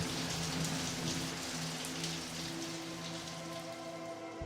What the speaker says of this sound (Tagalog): Patuloy sa pagbuhos ang malakas na ulan.